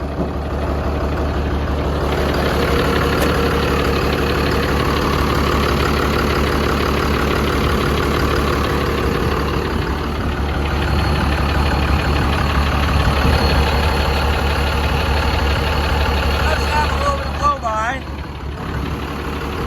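A P-pumped 24-valve Cummins diesel in a truck, the original engine and heavily worn, idles unevenly with a low, rough rumble, steady and close throughout, with a brief rattle near the end.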